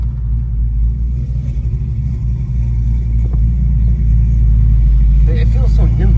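A 1983 Chevrolet C10 Silverado short bed with a 5.3L V8 rumbles and revs steadily, its low engine drone filling the cabin while people talk over it throughout.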